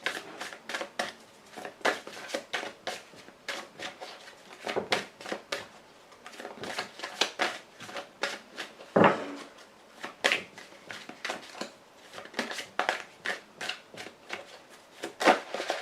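Playing cards being shuffled and dealt in a French tarot-style reading, with repeated crisp riffles and snaps coming in irregular bursts at close range, one sharper slap near the middle, and no talking.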